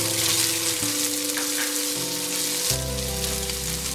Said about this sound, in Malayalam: നമുക്ക് ആദ്യം കടലക്കകത്ത് ഇത്തിരി തേങ്ങാക്കൊത്ത് വറുക്കാം